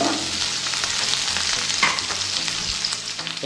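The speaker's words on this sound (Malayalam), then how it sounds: "ചെറുതായിട്ട് ഒന്ന് ഇളക്കിയെടുക്കാം." Green chili and onion frying in a pan while being stirred, a steady close sizzle with scraping stir strokes and no voices.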